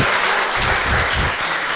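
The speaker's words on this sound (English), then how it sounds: "Yeah, clap it up for the knockout in the front." Comedy club audience applause during a stand-up set, a loud, dense, continuous wash of clapping filling the room.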